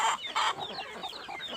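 Free-range village chickens cluck in a short, lively burst, with close, loud calls at the start followed by quicker, softer clucking that continues to the end.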